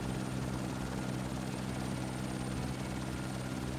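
A helicopter flies in the survival video game No One Survived, giving a dense, constant rotor and engine roar that stays steady and loud throughout with no breaks.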